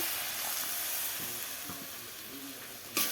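Water poured into a pan of frying vegetables, which gives a faint, steady hiss and sizzle. A sharper burst comes right at the end.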